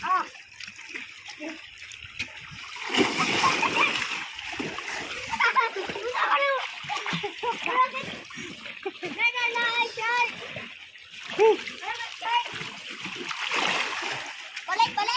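People splash about while swimming in cold, clear sea water, with constant sloshing and splattering close by as children and adults talk and call out over the water throughout.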